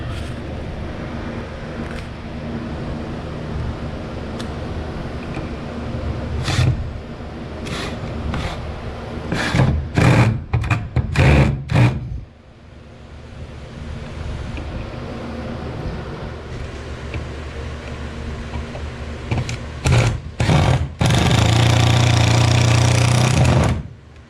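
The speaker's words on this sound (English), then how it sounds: "once I drill it, it should pull it right in" A power drill drives screws in repeated short bursts and longer stretches, close and loud, with clicks and rattles between runs and a final sustained whir.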